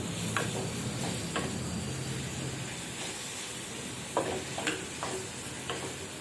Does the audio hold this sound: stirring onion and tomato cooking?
yes